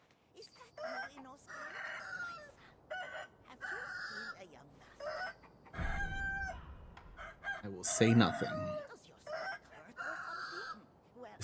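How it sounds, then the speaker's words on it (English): Rooster crowing and chickens clucking in a video game village, a few repeated crows and clucks at moderate volume while someone talks over them. "This damn rooster."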